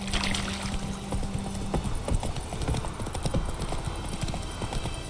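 Roach the horse's hooves clip-clop steadily in The Witcher 3, a continuous close rhythmic patter of hoofbeats over a low background rumble, with no one talking.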